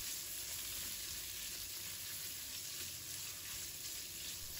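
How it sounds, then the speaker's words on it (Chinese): Pork belly fries slowly in oil in a wok over low heat, a soft, even, unbroken hiss of sizzling fat heard close up and without talk. "将五花肉放入锅中，用小火慢慢煸炒"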